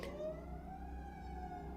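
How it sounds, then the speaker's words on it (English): An emergency vehicle siren wails steadily outside a house, a sustained tone sliding slowly in pitch, heard somewhat distant and muffled with no voices over it. "And there's a siren"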